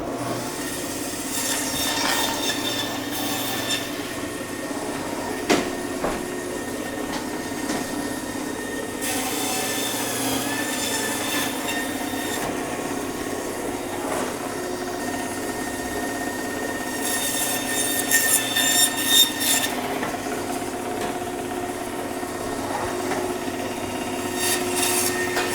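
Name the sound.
bandsaw cutting bison front quarter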